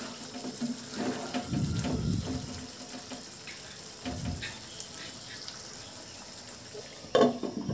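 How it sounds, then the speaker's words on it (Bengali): Fried chicken pieces stirred into cooked-down masala in a pan for Bangladeshi chicken jhal fry, giving soft scraping swirls and a low sizzle, with a brief clatter near the end. "মাংসগুলো মশলার সাথে কিছুক্ষণ একটু নেড়ে নিচ্ছে"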